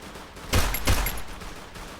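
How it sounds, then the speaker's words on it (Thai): Two close bursts of gunfire in a first-person shooter game, sharp and loud, each ringing briefly over a steady background hum, with no talking. "มีแต่คนเล่นปืนรัวกัน"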